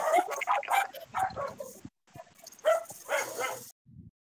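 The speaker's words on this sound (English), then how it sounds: "Can you mute the dogs?" Dogs bark and whimper in quick yips and bursts, picked up over a voice chat during an online game, with brief pauses between bouts.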